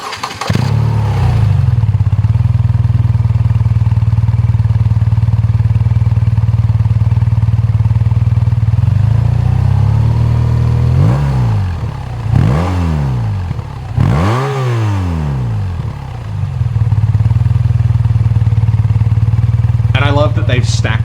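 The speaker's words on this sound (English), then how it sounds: "So the next up is the twin exhaust. I think they look good, and they sound fabulous." A BMW R12 motorcycle runs through its twin stacked exhaust pipes: a loud, close, steady idle burble broken midway by three or four sharp throttle blips that rise and fall before it settles back to idle.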